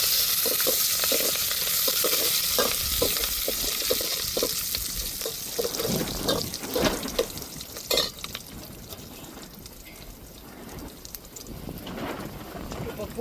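Curry leaves frying in hot oil in a pan give a loud crackling sizzle at first that slowly eases, with spoon scrapes and stirring while a person talks over it.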